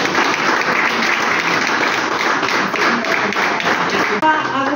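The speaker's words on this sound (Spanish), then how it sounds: "fuerte los aplausos" Loud, dense applause from an audience at a certificate-award ceremony, steady clapping filling the whole stretch with a brief dip near the end.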